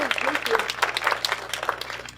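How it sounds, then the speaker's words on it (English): Audience applause at a community meeting honoring two long-serving police officers, lively scattered clapping mixed with cheering voices and chatter close by. "Yes, round of applause."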